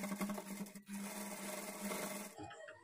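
A sewing machine runs a continuous stitch along a blouse edge, a steady close whirring hum with one brief pause, then stopping near the end.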